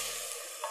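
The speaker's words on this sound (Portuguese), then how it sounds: "Então você está fritando a cebolinha" Chives sizzling as they fry in a pan, a steady close broadband crackle and hiss with no voices, slight stirring bump near the end.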